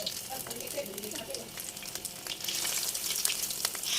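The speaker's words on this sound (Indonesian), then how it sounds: "balut ayam dengan adonan tepung dan goreng satu persatu" Flour-battered chicken pieces sizzle in hot oil, a steady crackling fry that grows louder and busier partway through, with faint background sounds around it.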